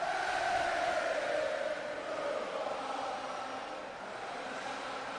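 Video game crowd in WWE 2K20 roaring for Nia Jax, a broad, steady wash of distant cheering that is loudest at first and eases slightly as it goes on, with no talking over it.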